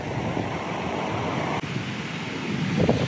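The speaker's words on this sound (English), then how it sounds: "the wind is like 10 miles offshore pretty much" Offshore wind and ocean surf at a New Jersey beach with waves of two to four feet: a continuous broad roar of breaking waves mixed with gusty wind buffeting the microphone, loud and close, with no talking.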